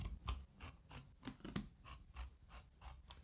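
Tailoring scissors snip through a traditional jacket's canvas inlay in a steady series of about eleven crisp, close cuts, evenly spaced, with no talking.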